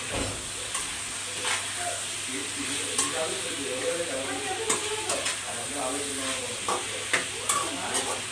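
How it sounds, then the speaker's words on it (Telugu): Chicken sizzles and fries in a hot pan with a constant crackling hiss, broken by scattered clicks and scrapes from stirring. "స్కిన్ అంతా వెంటనే ఫ్రై అవ్వడం స్టార్ట్ అవుతుంది"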